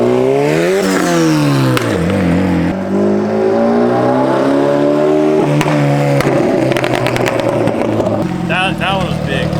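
Street-tuned, big-turbo Honda engine revving hard and spitting exhaust flames, loud rising and falling revs with sharp pops and crackles, close by, with people talking over it.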